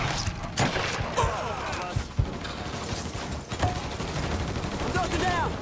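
Bursts of gunfire in a Mafia III shootout: several sharp shots scattered through a busy, noisy game scene, with a voice talking over parts of it.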